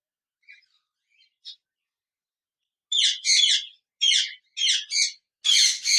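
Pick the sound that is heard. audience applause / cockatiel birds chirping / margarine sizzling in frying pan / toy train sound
cockatiel birds chirping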